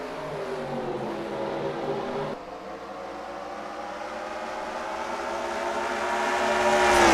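Race trucks in a racing video game at Watkins Glen roar off at the green flag start, their engines droning together and climbing in pitch as they accelerate, growing louder toward the end.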